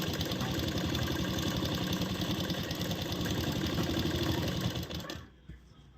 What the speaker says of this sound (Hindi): 1/2 इंच जितना गैप लेते हुए हम सिलाई लगा रहे हैं।